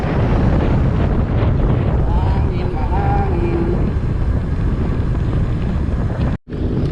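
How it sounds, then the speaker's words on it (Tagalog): Strong wind buffets the microphone during a bike ride in a continuous low roar, with faint voices and whistling tones barely poking through before a brief dropout near the end. "lakas ng hangin o"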